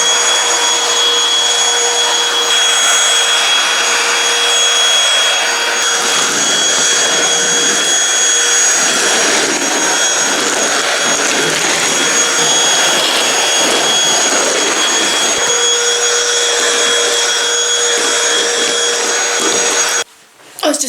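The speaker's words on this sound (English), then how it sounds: "I was just literally in the middle of hoovering the rug." A loud, steady vacuum cleaner hoovers a rug at home, a close, continuous roar with a faint whine, cutting out abruptly near the end, with no speech.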